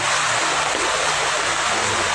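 Floodwater rushes down Jalan Mahendradatta like a river during a flash flood. It makes a loud, continuous roaring wash close by, with no break or talking.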